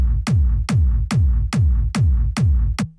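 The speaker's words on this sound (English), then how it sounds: "the top kick sounds like this on its own" Top kick drum on its own, seven punchy thumping hits in a steady even pulse with a brief low decay, close and loud, the last hit cut short.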